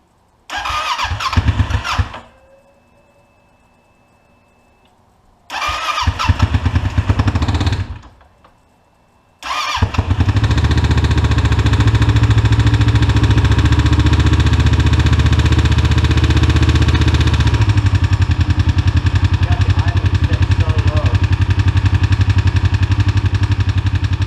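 A rebuilt Kawasaki Ninja 650 cranks in two loud bursts that fail to catch, then fires on the third try and settles into a steady, loud idle that runs on unbroken.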